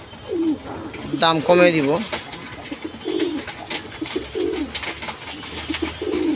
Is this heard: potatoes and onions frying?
no